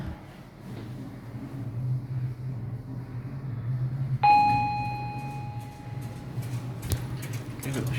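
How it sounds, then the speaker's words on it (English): An arrival chime rings out from a modernized ThyssenKrupp traction lift that replaced an Otis unit in a Queen Street office building, a single clear tone sounding midway through steady lobby hum and light background clatter. "Let's get the chime."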